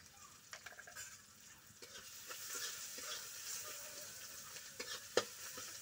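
Chopped onions with salt fry in a pan for a Bengali hilsa fish curry, a faint, steady sizzle broken by occasional utensil taps and stirring scrapes, close but quiet, with no talking.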